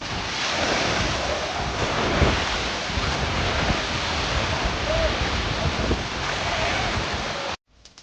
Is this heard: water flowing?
yes